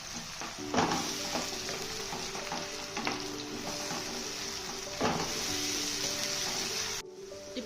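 Tomato puree from two tomatoes is stirred in a hot pan, giving a steady loud sizzle with scraping strokes of a spoon at intervals, then cutting off abruptly near the end.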